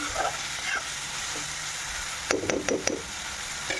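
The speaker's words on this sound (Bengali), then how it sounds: "আর এখন কিন্তু এই মশলাটাকে ভালো করে সুন্দর করে কষিয়ে নিচ্ছি" Masala for a tengra fish dish fries in a pan under a steady sizzle, with a short run of clattering stirring strokes near the end and no talking.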